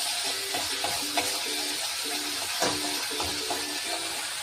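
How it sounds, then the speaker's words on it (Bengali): Ginger fries in oil in a pan for vegetarian fried rice, a constant close sizzle broken by soft stirring clicks and scrapes. "আর 1 চামচ আদা দিচ্ছি। দিয়ে এটা একটু ভেজে নিই।"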